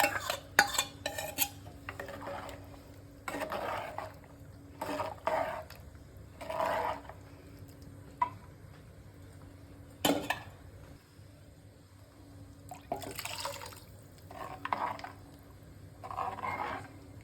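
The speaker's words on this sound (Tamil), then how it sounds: "அந்த மசாலும் வந்து இதில் ஊற்றிட போகிறேன்" Ground masala paste poured into a pot of mutton thanni kulambu, then stirred with a metal spoon, with scattered scraping clinks against the pot and soft wet squelches in short bursts.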